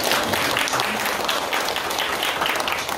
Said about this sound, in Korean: 박수로 밀어주시기 바랍니다